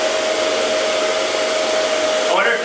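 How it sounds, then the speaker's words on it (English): A hair dryer runs loud and close with a steady roaring hiss and a faint constant tone, blowing on materials such as cotton in a melting experiment. Near the end the pitch shifts briefly. "I wonder if the hairdryer's power changes over time."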